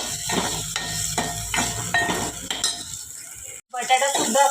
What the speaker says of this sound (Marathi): यामध्ये पण सुद्धा थोडीशी हळद टाकूया, थोडीशी कलर टाकूया, पुन्हा परतून घेऊयात